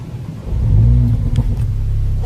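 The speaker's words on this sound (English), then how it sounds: "We press this and the engine comes to life with an awesome" A Mercedes-AMG A45's engine fires up with a deep rising roar that peaks briefly, with a crackle, then settles into a steady low rumble.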